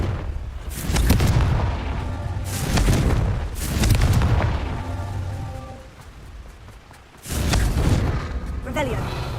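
Confringo blasting spell explosions in Hogwarts Legacy burst out four times in heavy, booming waves a couple of seconds apart, with voices heard between them.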